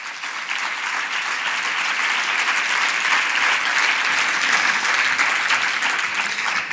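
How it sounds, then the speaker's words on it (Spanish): A seated audience gives a strong, sustained round of applause for Nora Madariaga at a parents' meeting, dense even clapping filling the room at steady volume. "Un fuerte aplauso para ella."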